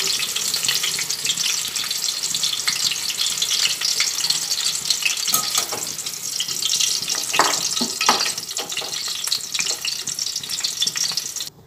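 Capsicum fries in hot oil in a wok, a loud constant sizzle with occasional stirring knocks and scrapes, tapering off at the end.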